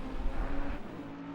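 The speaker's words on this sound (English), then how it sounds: "Lamborghini does have such an awesome sound. That V10," Lamborghini V10 race car in the Assetto Corsa Competizione racing game at Zolder, engine droning loudly and steadily at high revs, fading somewhat toward the end, with no talk.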